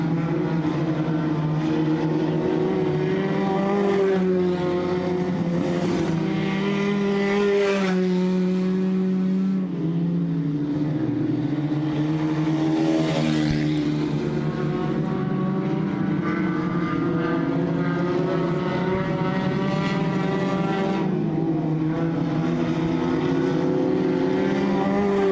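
Mini stock race cars roar around a dirt track during a feature event, a continuous loud blend of engines rising and falling as cars pass, with no talk.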